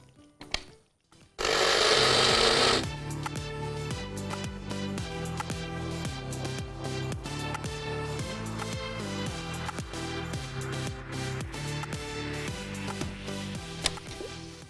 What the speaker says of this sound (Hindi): अगर आपके पास भी इस तरह से एनेक्स की ये स्पाइस ग्राइंडर मौजूद है तो फटाफट से आपका काम सेकंड्स में हो जाता है।